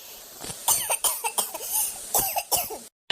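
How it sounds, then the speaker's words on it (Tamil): A person coughs repeatedly in quick, harsh bursts, close up, ending in a brief silence before one last cough. "ஒரே இருமல்"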